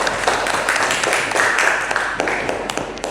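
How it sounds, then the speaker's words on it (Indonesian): A classroom group applauds for a student, a fairly loud burst of scattered clapping that gradually thins and fades. "kasih dulu tepuk tangan untuk Raya"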